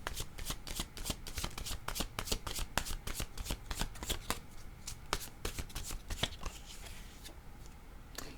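Tarot cards being shuffled close up, a steady stream of soft, rapid riffling flicks and slaps continuing for several seconds with no talking.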